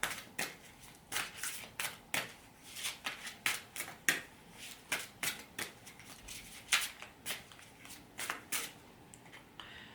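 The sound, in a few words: shuffling and drawing oracle cards from a deck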